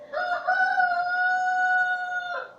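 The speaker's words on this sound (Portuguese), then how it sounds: "Olha o galo, né?" A rooster crows once in a long, clear, sustained call at moderate distance, standing alone against a quiet background.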